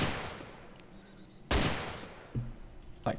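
Gunfire in the Arma 2 DayZ game, a sharp loud burst of automatic fire followed by two quicker shorter bursts, each trailing off with a fading echo, no talk.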